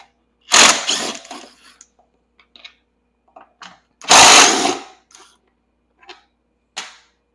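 Two loud bursts of a power tool on a 10mm bolt of an EZGO golf cart, each lasting about a second, with short clicks and clatter between them and a brief final buzz.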